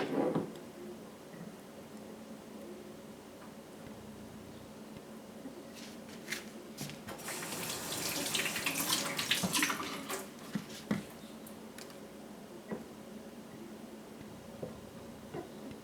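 Tap water running into a jar while making sourdough starter from bleached flour and water, a steady indoor trickle that swells louder midway, with a few clinks and taps.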